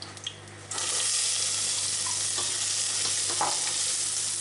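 Shallots hit a hot, smoking pan for tarka daal, erupting at once into a loud, steady, dense sizzle that holds unbroken after a brief quieter start.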